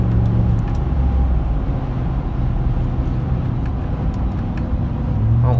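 A 2013 Chevrolet Silverado Z71 LS 4x4 pickup with a 5.3 V8 and a 6-inch lift, driving, its exhaust a steady low drone heard from inside the cab with constant road noise and no talk.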